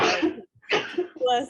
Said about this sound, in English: I'm going to sneeze again.